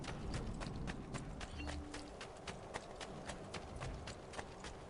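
A horse gallops in Assassin's Creed 2, its hooves clip-clopping in a steady, quick rhythm at close range, with faint game ambience underneath.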